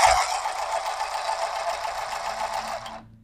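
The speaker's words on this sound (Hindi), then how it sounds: "सिलाई कर सकते हैं इस मिनी सिलाई मशीन से" A small Usha mini sewing machine stitches in a fast, steady mechanical whir, loud and close for about three seconds before stopping abruptly.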